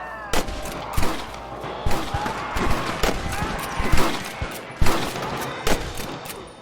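Gunfire rings out in a firefight with rustler guards in Red Dead Redemption on PS3: rapid, loud shots crack in irregular bursts over a continuous din of battle, with no voices audible.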